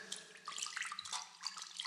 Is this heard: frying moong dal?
no